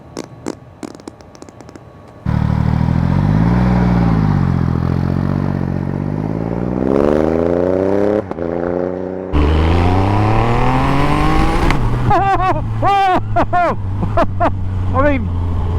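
A supercharged Triumph Rocket 3 motorcycle engine, 340 horsepower, idles with a deep burble, then revs in long rising and falling sweeps before blipping sharply several times near the end, loud and close, with someone speaking over parts of it.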